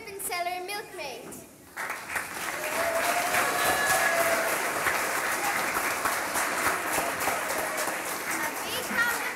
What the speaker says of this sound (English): Please put your hands together for the ribbon seller and milkmaid.